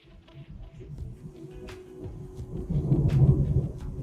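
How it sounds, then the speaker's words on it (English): Thunder from a thunderstorm rolls in as a low, distant rumble that builds and swells toward the end, with a few faint crackles on top. "Oh, I hear thunder."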